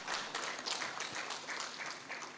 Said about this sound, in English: What if you clap for the panelists?